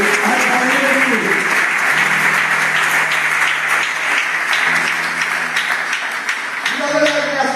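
A church congregation applauds continuously in a dense, loud wash of clapping, with singing and voices mixed in throughout.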